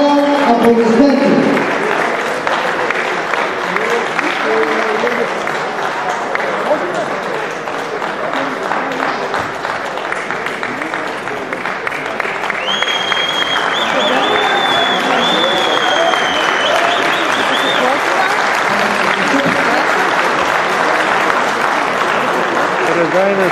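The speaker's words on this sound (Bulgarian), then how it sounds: "Моля аплодисменти." An audience at international wrestling finals in Sofia gives a long, sustained round of applause, loud and even throughout, with an announcer's voice over the clapping.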